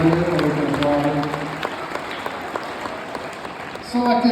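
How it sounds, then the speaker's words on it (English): Scattered applause at a high school boys basketball all-decade team ceremony, light clapping from a modest crowd with voices murmuring and talking over it. "I'm giving some applause down here,"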